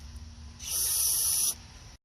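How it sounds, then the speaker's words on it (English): Gasoline sprayed from a can into a car engine that cranks but won't start, a single steady hiss lasting about a second, close and loud, with no talking. "I'm going to spray this in here."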